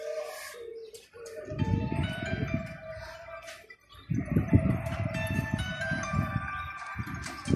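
Pigeons kept for sale coo in low throaty bursts, several birds close by, with a steady background of bird chirps and rustling and no talk heard.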